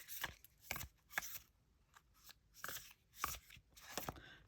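A deck of The Little Monsters Tarot cards is given an overhand shuffle, producing about nine quiet, crisp riffling bursts in an uneven rhythm, heard close and alone.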